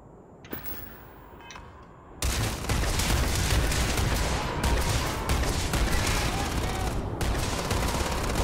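Sustained rapid gunfire from a weapon in the video game Starfield, bursting in abruptly after a quiet moment and continuing as a loud, dense rattle to the end.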